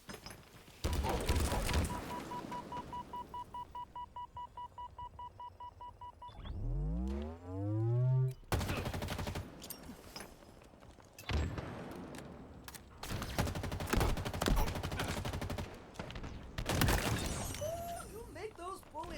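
Gunfire and weapon blasts in the Halo video game, with bursts of shots and explosive impacts mixed among game sounds and voice lines over several seconds.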